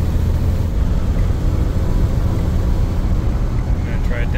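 A 1948 DeSoto Deluxe with Fluid Drive cruises in fourth gear, its steady low engine drone and road rumble continuous and close throughout.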